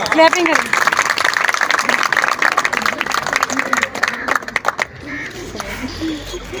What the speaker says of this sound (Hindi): अब आपकी भरपूर तालियों में तशरीफ़ लाएंगे मेरे उस्ताद मोहतरम जनाब ख्वाजा मजहर सदीकी साहब